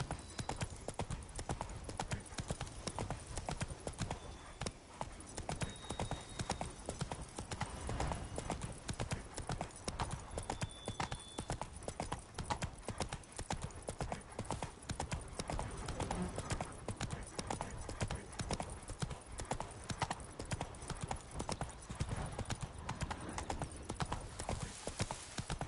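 A horse gallops in the video game Witcher 3, its hooves pounding a fast, unbroken clip-clop rhythm throughout. A brief neigh may break through the steady drumming.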